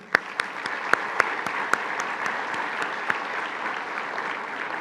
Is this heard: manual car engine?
no